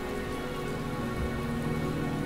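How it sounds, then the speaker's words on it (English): Rain in the Wuthering Waves video game, a steady, even hiss of falling rain on surfaces, continuous and fairly close, with no voices. "The rain is subsiding, and the sky will soon clear."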